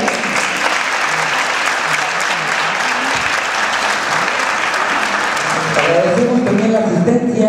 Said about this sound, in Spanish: el químico Luis Guillermo Benítez Torres, a quien le brindamos un fuerte aplauso